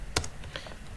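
A short burst of quiet, close keystrokes on a computer keyboard as a command is typed, a few distinct taps within a second.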